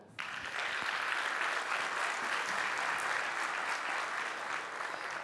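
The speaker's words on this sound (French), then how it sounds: "On peut l'applaudir bien fort." Steady applause from an audience at a talk, sustained clapping that starts abruptly and continues evenly throughout.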